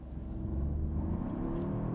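A BMW X2 accelerates hard from a standstill with its wheels spinning, a steady low engine rumble and whir heard from inside the car without pause.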